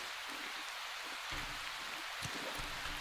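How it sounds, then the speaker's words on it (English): Rain falls steadily in the video game Prologue: Go Wayback, an even wash of hiss with a few heavier drops and low thuds, no talking. "Also, it's raining."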